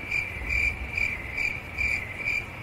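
Crickets chirping in steady pulsing bursts, a bright shrill trill repeating about twice a second over a low rumbling background, close and clear with no voices.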